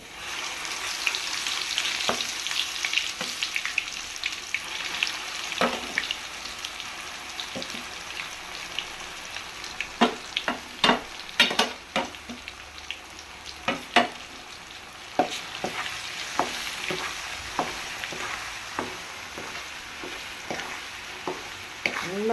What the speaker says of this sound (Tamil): இப்போ இதை எடுத்து இந்த எண்ணெயில் இந்த மசாலா இஞ்சி பேஸ்ட் எடுத்து போட போகிறேன் பாருங்கள்.